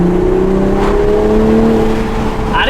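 A turbocharged Toyota Supra A91 CF-Edition accelerates under light throttle, its engine note climbing steadily as a loud, close whir and hum with a smooth rising pitch.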